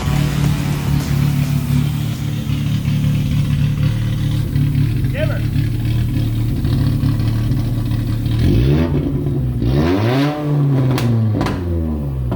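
A repaired car engine idles with a steady low rumble for several seconds, then revs up sharply twice near the end. The engine is close and loud, and speech overlaps part of it.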